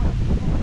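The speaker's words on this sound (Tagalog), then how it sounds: "Sarap ng hangin" Steady strong wind buffets the microphone outdoors near the water at a port, a loud continuous rumbling roar that runs through the whole moment with no pauses.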